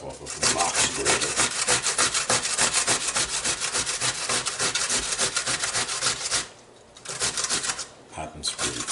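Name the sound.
grating cucumber on a metal box grater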